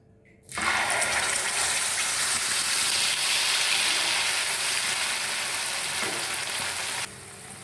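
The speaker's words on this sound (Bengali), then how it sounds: "এবার এই তেলেই মশলাটা আমি দিয়ে দেবো" A loud hiss bursts out suddenly and holds as a steady, bright sizzle of spice paste frying in hot oil, dropping slightly near the end.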